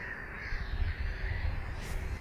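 Crows caw repeatedly outdoors near a limestone park by residential homes, their harsh calls carrying over a steady low rumble of wind or distant traffic, with no voices.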